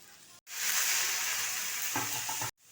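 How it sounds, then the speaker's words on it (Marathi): Chicken chilli frying in a pan with vinegar just added gives a loud, steady sizzle for about two seconds, close and continuous, with no voices. "आता ते चांगले फ्राय करू"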